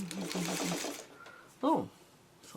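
A domestic sewing machine stitches fabric with a rapid rhythmic mechanical whir for about a second and then stops, and a voice speaks briefly afterward.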